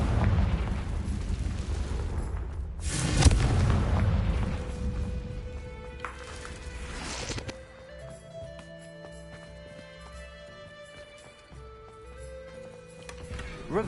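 Confringo blasting spell in Hogwarts Legacy on PS5 erupts with a loud, booming blast, followed by a second burst a few seconds later, over rumbling game ambience that settles into quieter music.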